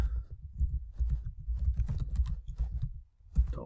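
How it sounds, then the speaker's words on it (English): Quick, uneven bursts of keystrokes on a computer keyboard as an email address is typed, close and clear with a short pause near the end. "type in the email address"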